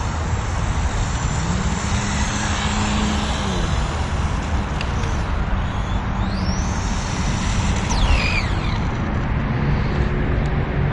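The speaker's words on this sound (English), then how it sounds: "extremely smooth brushed motor. That was just about full rip." Brushed electric motor of a Team Associated 1/10 Apex2 Hoonitruck radio-controlled truck running near full throttle, a steady loud whine and hiss with rising and falling tones as it passes, held continuously throughout.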